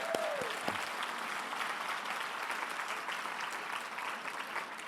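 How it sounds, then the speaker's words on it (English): Steady, dense applause from a crowd, continuous and fairly loud throughout, with a brief tonal sound at the very start. "Give a round of applause."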